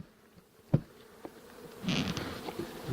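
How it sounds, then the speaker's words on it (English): Honey bees buzz around a five-frame nuc box during a hive transfer, a faint, steady insect hum rising louder partway through with a few brief knocks before it. "There's still a few bees in the nuc box here."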